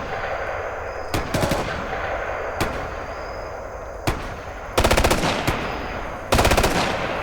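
Gunfire in the Ghost Recon Future Soldier Raven Strike video game, several sharp single shots followed by two loud rapid automatic bursts, close and with no talk.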